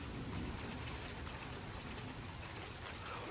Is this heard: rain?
yes